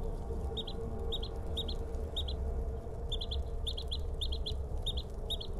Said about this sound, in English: Listen to the birds, guys.